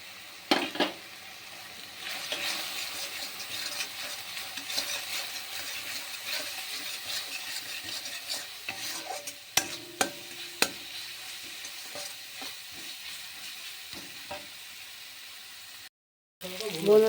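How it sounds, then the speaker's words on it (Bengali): Spices sizzle and fry steadily in a pan, with frequent scraping and stirring clicks from a utensil against the metal and a brief pause near the end; no talking. "এই মশলাটা কষিয়ে নিচ্ছি।"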